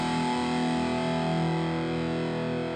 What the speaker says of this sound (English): overdriven sounds,